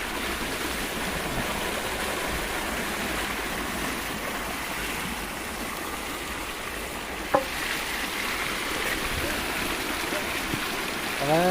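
Floodwater swirls and rushes across a rain-flooded farm field, a steady broadband roar of churning water throughout with a brief knock partway through, close and continuous.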